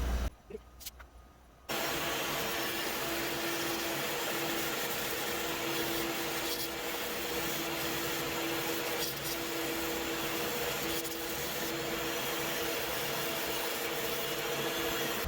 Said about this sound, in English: put on the dust collector, and let's clean this piece up